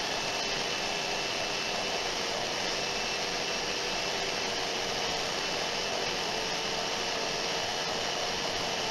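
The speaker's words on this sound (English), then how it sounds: "This is the first time I've used a disc sander since I was at school" A steady, loud whirring hiss of a disc sander grinding wood, continuous and unbroken throughout, with no talking.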